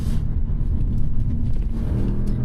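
A 2023 Alfa Romeo Giulia Quadrifoglio engine droning low and loud from inside the cabin under hard driving on a track, a steady rumbling roar that shifts slightly in pitch as it downshifts.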